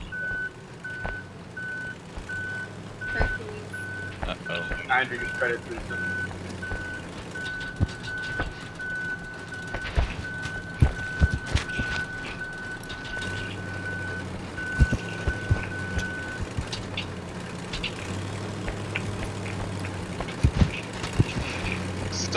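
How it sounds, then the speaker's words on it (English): A truck in the video game Human: Fall Flat sounds steady, evenly spaced reversing beeps over a low engine rumble, with players talking over it. "Look at me pushing this truck."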